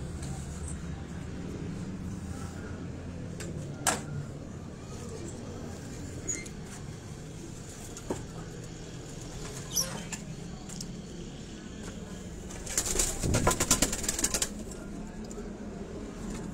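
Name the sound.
pigeons flapping their wings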